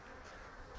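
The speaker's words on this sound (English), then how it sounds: "lots of bees flying in." Honeybees flying into a busy hive in East Sussex, a continuous dense buzzing hum from many insects close by, with no voices.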